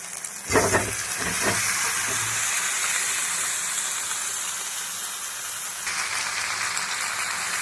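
Fried cauliflower and potato hitting a cooked-down spice paste with Kashmiri chilli powder, a sudden loud sizzle with a few bursts of clatter at the start, then a steady broad frying hiss throughout.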